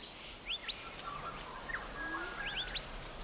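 An aggressive bird feeding in a fig tree gives several sharp rising whistles and chirps in quick pairs, moderately faint over a low forest background hum.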